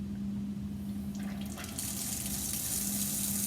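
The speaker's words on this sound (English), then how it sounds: "But now watch, I'll turn on the vacuum." Water is drawn by vacuum suction through filter paper in a lab filtration setup, a steady gurgling rush with a low pump hum beneath that brightens into a stronger hiss partway through.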